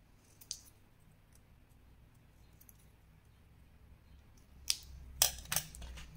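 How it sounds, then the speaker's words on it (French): Scissors make a few sharp snips as paper is cut to a point for a scrapbook box meant for a large bottle, with a faint snip early on and a cluster of close cuts near the end. "je vais venir couper en pointe comme ceci"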